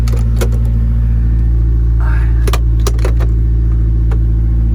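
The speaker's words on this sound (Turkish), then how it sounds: "Şunu şöyle üstünü açalım." A Honda S2000 convertible sits idling with a steady low engine hum while its soft top operates, bringing a brief mechanical whirr and several sharp clicks and knocks close by.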